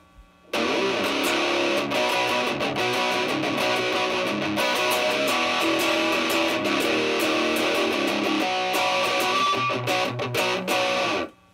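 Electric guitar played through distortion effects on a stereo amp rig, a thick, loud, saturated riff sustained for about ten seconds before cutting off abruptly.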